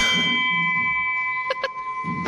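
Bells at a temple ring out in sustained metallic tones with a couple of quick strikes near the end, heard close amid faint background voices.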